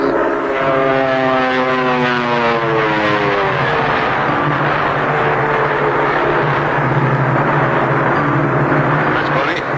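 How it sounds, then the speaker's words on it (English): A cartoon propeller airplane drones steadily overhead, its engine a continuous, loud buzzing roar with slowly shifting pitch, filling the whole stretch without pause. "I think I heard another plane."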